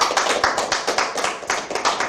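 Audience applause for children at a Korean gathering celebrating Mugunghwa Day, with clapping rising in uneven pulses of many hands, close and fairly loud, and no talk over it.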